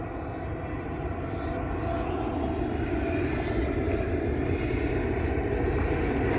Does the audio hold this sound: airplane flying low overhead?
yes